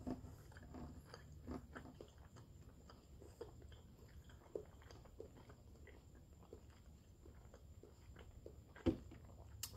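Someone chews Carolina Reaper beef jerky from House of Jerky in Tarpon Springs, Florida, with quiet, close, repeated biting and moist chewing sounds in an irregular rhythm, plus one sharper crunch near the end.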